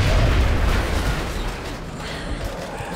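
A grenade explodes in the strategy game XCOM: Enemy Within: one loud, broad blast that opens the clip and fades slowly into a rumbling, smoky tail, with no voices.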